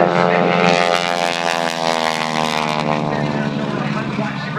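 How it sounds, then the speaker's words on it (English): During an aerobatic four-point roll at an air show, a vintage Stearman biplane's radial engine drones loud and steady, its pitch gently shifting as the plane rolls, while an announcer talks over it. "Rolling that airplane through the 4-point station roll."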